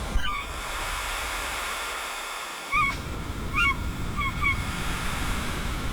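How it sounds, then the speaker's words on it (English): Several sharp, nasal kelp gull calls ring out in short bursts over the steady wash of surf on the Antarctic Peninsula, fairly close and a little louder than the waves. "Kelp gull."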